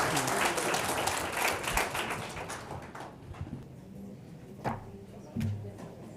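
An audience applauds at the close of a panel session on cultural diplomacy. Loud clapping fills the first half and then thins to a few scattered claps and knocks.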